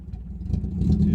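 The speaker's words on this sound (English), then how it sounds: "I want to do a gear change down from third to" A car drops from third to second gear, the engine note rising and falling in a steady low rumble with faint clatter, close and fairly loud throughout.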